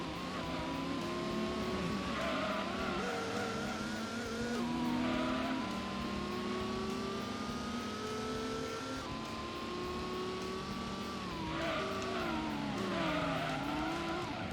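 Race cars in Gran Turismo, a Nissan Skyline and a Corvette among them, scream through gear changes with engines rising and falling, tires squealing as the pack jostles closely throughout.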